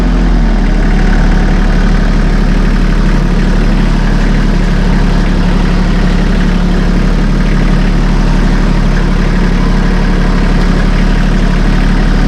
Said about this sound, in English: Now we raise her up just a little bit of RPMs. We go up to about 1500.